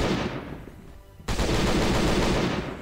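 Rapid automatic gunfire from a turret and a fast-killing weapon in the video game Last Day, a dense, loud stream of shots that drops back briefly and then surges harder, with no talk over it.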